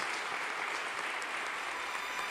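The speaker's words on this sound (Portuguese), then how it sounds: "Pode aplaudir talentosamente o Senhor Jesus." A church congregation applauds in praise, a dense, even wash of clapping that continues steadily without pause across the short stretch.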